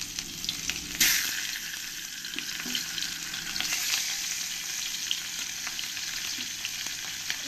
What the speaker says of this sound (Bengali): এবার এই মাছগুলো এক এক করে আমি এই গরম তেলের মধ্যে দিয়ে দেবো।